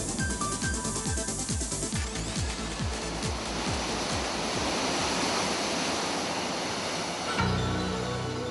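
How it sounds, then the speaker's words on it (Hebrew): La Paz waterfall in a Costa Rican nature reserve gives a dense, steady roar of rushing water, loud and continuous throughout, with no voices. "מפל המים לפז, בתחומי שמורת הטבע לפז"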